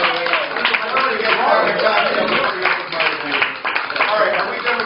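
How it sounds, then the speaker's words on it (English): Sports-talk audience applause for a caller, a dense, even wash of clapping and crowd noise with no break across the few seconds. "big round of applause for John from Alabama"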